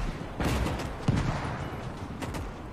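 Machine gun fire in the World War II game Gates of Hell: Ostfront, several sharp bursts of shots over a rumbling battlefield background, fairly close, with no speech.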